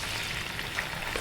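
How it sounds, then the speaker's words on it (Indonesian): Chopped tomatoes frying in hot oil in a pan for sambal goreng, a steady soft sizzle with faint crackle running throughout, close and fairly quiet with no talking. "Pertama-tama saya goreng tomatnya."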